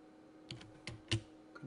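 Faint, close computer keyboard and mouse clicks, a few sparse separate taps over a quiet electrical hum.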